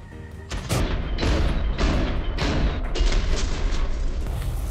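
Loud repeated cannon blasts and booming impacts in War Thunder tank or naval combat, several heavy shots in quick succession over continuous battle noise, with no talking.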